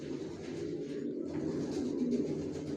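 Pigeons coo softly at a loft of racing pigeons, a low, steady murmur of overlapping coos throughout, fairly near and unaccompanied by talk.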